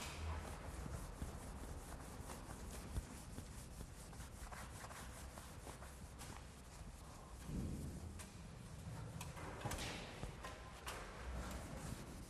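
Clean mutton cloth rag rubbed over a waxed Pandomo floor surface, giving a steady, close scrubbing and swishing texture with a few louder strokes, no talking.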